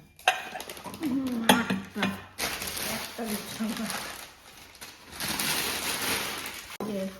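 Eight newly bought cups and eight half plates clink and knock against one another in a string of sharp, close rattles, while a voice talks over the handling.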